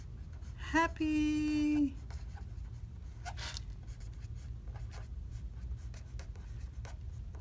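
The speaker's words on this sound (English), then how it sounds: "And then we write" A pen writes on a handmade Mother's Day flower card, making a faint, close scratching under a single spoken word and a steady background hum.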